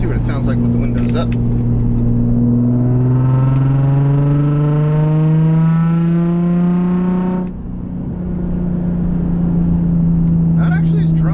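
Steady engine drone from inside a Nissan 350Z fitted with a 370Z Y-pipe, windows up, a low exhaust hum rising in pitch as it accelerates, dipping briefly, then settling again.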